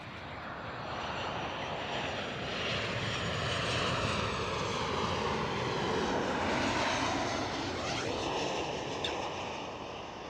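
A jet airliner arriving at Amsterdam Schiphol airport passes close by with a broad, loud engine roar, swelling to a peak mid-clip and then slowly fading, with no talk over it.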